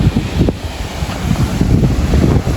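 Loud, blustery seaside wind roaring over the microphone with the rumble of rough sea waves beneath, continuous and close.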